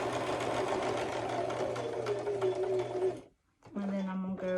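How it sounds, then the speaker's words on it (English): A sewing machine stitching an appliqué onto fabric runs in a fast, steady buzz, stops briefly, then starts again for a shorter burst, close up with no talk over it. "I'm just going to go up here and sew the top of it."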